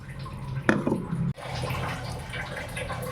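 Water pours briefly into a pot of fish curry with ground spices, a short splash followed by a steady low hiss.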